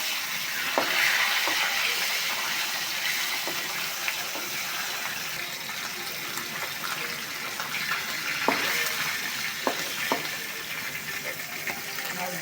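Eggplant pieces fry lightly in oil alongside sher punti fish, a steady soft sizzle with occasional clinks and scrapes of a utensil, nearby and without speech.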